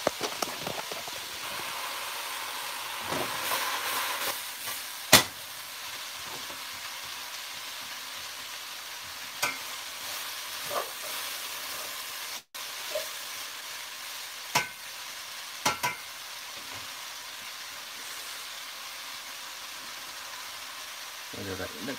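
Curry ingredients sizzling gently in a pan over lowered heat, a steady soft hiss throughout with occasional faint clicks and stirring taps, fairly quiet and heard alone.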